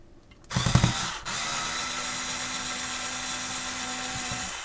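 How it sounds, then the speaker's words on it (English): A power screwdriver working on the screws of a Compaq F700 laptop: a brief loud burst of motor and rattling, a short pause, then a long steady whirring drone at close range, with no voices. "may have the wrong bit in this screwdriver."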